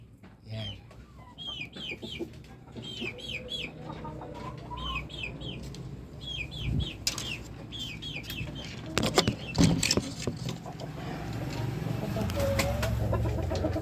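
Chickens cluck and chatter repeatedly at close range, with occasional rooster calls and scattered bird chirps over a low, busy farmyard background.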